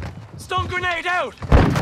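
A stun grenade detonates in Call of Duty MW2 multiplayer, a sharp, loud burst right after a short shouted callout from a player.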